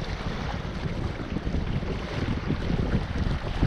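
A sailboat under sail in the channel between Ithaca and Kefalonia in the Ionian Sea, with steady rushing wind noise across the microphone and waves washing against the hull.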